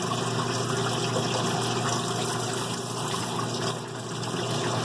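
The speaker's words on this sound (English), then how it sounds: "See how it's flushing out the main oil passage?" Liquid pumps and gushes steadily through the main oil passage of a Mercedes OM617 diesel engine block during flushing, a close, continuous watery hiss with a brief dip near the end and no talk.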